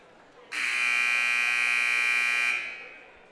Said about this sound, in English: wait for the buzzer here.